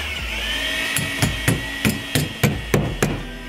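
A hammer bangs on a wall to find the stud during a stonework job, producing about nine sharp, evenly spaced knocks over a steady background hum, close up, with no talking.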